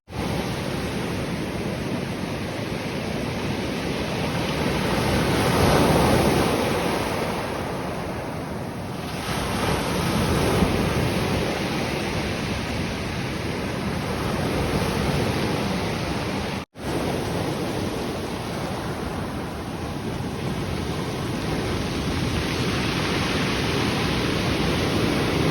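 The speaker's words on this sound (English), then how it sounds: "I want you guys to hear the noise of the rocks getting pulled back into the ocean by the waves." Surf on the Oregon coast washes continuously up a rocky shore, a steady broadband roar that swells and ebbs as each wave drags stones back toward the sea, with some wind buffeting the microphone and no voices.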